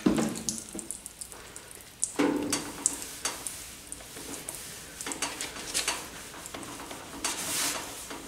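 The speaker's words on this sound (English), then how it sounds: "Let's rinse that off." Running water rinses off the sanded surface of a 1995 Vert during prep, splashing and trickling unevenly with intermittent louder gushes and a few faint clinks.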